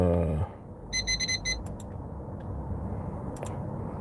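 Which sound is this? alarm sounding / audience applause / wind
alarm sounding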